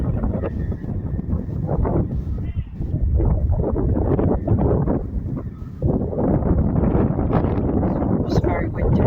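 Strong wind blows at Peterborough railway station, buffeting the microphone in heavy, continuous gusts.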